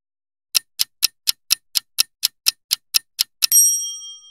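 A dozen or so crisp, evenly spaced clock ticks, then a bright shop bell dings once and rings out.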